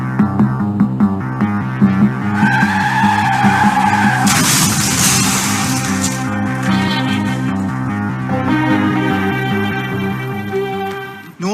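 A car skids with a drawn-out tire screech and then crashes in a comedy sound effect, loud and close with no one speaking over it.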